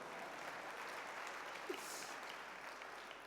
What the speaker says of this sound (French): Madame Karboul est dans la salle, on peut l'applaudir s'il vous plaît.